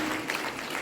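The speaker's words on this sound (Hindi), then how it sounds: "जोरदार ताली से अभिनंदन कीजिए माननीय राज्यपाल जम्मू कश्मीर श्री मनोज सिन्हा जी" Crowd applause greets the Lieutenant Governor of Jammu and Kashmir at a Forest Day function in a convention centre hall, a steady, diffuse clapping wash lasting under a second at moderate distance.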